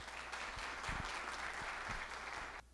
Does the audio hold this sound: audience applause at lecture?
yes